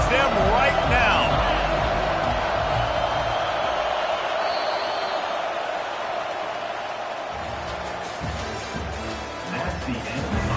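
Stadium crowd at an NCAA college football game against Florida State roaring in a sustained, dense wash of cheering and noise that swells and holds throughout, with some louder bursts near the end.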